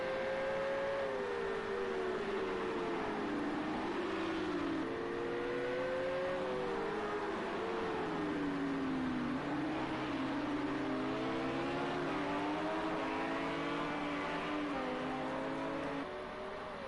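Simulated race cars in Project CARS 2 at the Nürburgring sprint race drone and rev continuously, engine pitches rising and falling as several cars battle closely together.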